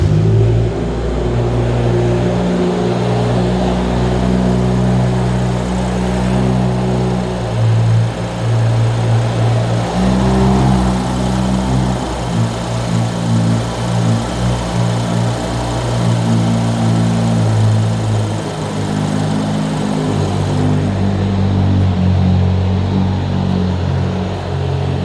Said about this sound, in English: I'll give it another start so you can see how it runs.